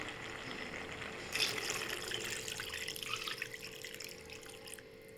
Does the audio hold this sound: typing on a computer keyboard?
no